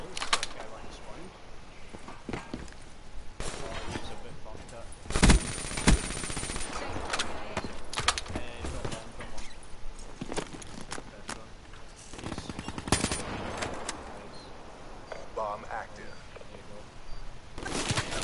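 Rapid automatic gunfire in a competitive online shooter match, long stretches of bursts and single shots at varying distances, with players talking over the action.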